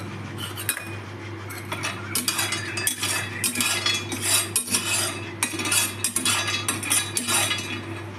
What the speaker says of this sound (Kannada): ಈಗ ಇದೇ ಥರ ಬಾದಾಮಿ ಹುರ್ಕೋಬೇಕು.